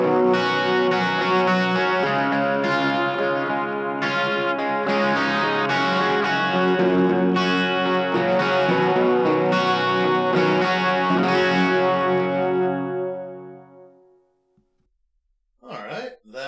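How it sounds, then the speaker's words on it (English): An electric guitar plays through the chorus effect on a NUX Mighty Lite BT practice amp, strummed chords shimmering with a thick, slightly distorted tone for about fourteen seconds before ringing out, followed by a brief scrape. "that is not a bad chorus at all for built-in effects to this"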